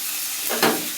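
Fish fat, pangas fish, frying in hot oil, giving a steady close sizzle with a brief louder burst of spatter near the end.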